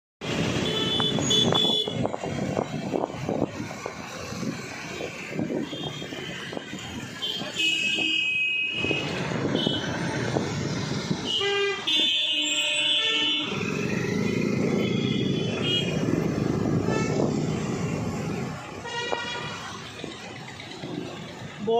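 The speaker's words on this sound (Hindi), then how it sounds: "बहुत ज़्यादा ट्रैफिक हो रहा है" Dense road traffic in an Indian city on the way to a gurdwara, with a steady roar of engines, several horn toots and buzzing beeps cutting through, and someone talking over the noise now and then.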